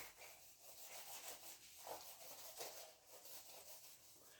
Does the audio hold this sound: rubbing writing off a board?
yes